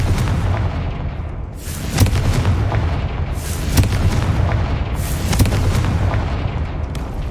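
Three heavy booming blasts from the Confringo fire spell in Hogwarts Legacy, each a loud burst with a rolling tail, spaced about a second and a half apart over a low game rumble.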